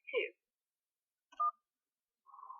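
Telephone keypad DTMF tones on a phone menu: three short, faint electronic beeps, each standing alone with silence in between.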